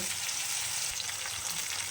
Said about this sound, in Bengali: এরপর এটাকে একদম লাল লাল করে ভেজে নেব, রসুন আর আদাটাকে